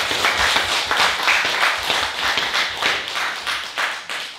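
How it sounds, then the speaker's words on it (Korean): A concert audience at the close of the 15th Dream Concert in Korea gives loud, sustained applause, many hands clapping densely and steadily, close and without voices. "기가 막히다고 생각하시는 분 다시 한번 뜨거운 박수 부탁드리겠습니다."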